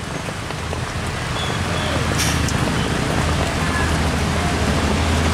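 Steady rain falls in a continuous hiss, with a low rumble underneath and faint scattered sounds, constant throughout.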